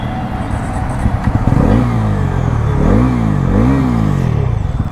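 A Bajaj Pulsar NS400Z motorcycle idles loudly up close, then its engine is blipped in three quick revs that climb and drop back, with a rough low rumble underneath throughout.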